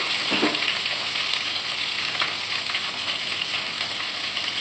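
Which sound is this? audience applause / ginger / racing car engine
ginger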